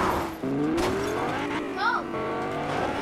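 Cars in the Fortnite video game drive with a steady engine hum and rising revs, and a short tire squeal cuts in partway through. Players talk over the vehicle sounds.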